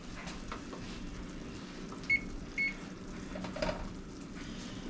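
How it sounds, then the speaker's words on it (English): Short electronic beeps from a kitchen timer being set, two brief tones over a steady background hum, made while peanut butter cookie mixture boils on the stove. "So now we'll set the timer for 1 minute."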